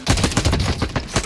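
Rapid automatic gunfire from a Call of Duty Warzone battle, loud bursts of dense overlapping shots repeating steadily through the moment with no pause.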